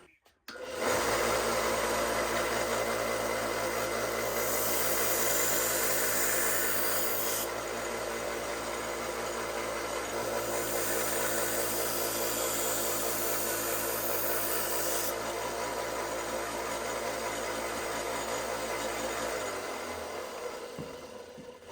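A new edge being ground on an old Schrade carbon-steel folding hunter knife with a power tool, a loud close whir with abrasive rasping held steadily for about twenty seconds, then winding down.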